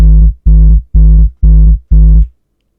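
Five loud distorted hardstyle kick drum hits, corrective EQ applied, each with a long booming tail and gritty harmonic buzz, in an even rhythm about half a second apart with no talk.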